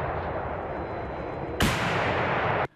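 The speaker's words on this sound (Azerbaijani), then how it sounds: "Rusiya silahlı qüvvələrinin hərbiçiləri qrad reaktiv yaylım atəşi sistemindən və özü yeriyən haubitsalardan Ukrayna mövqelərinə zərbələr indirib." Military artillery fire from a Grad rocket launcher and self-propelled howitzers, a continuous loud roaring blast that jumps to a harsher burst partway through and then cuts off abruptly, with no talk.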